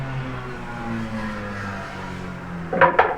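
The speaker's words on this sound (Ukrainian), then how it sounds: "Якась машинка проїхала голосно." A car passes by outside a home kitchen where homemade minced-meat cutlets are being made, its sound rising briefly and fairly loud near the end over a steady background hum.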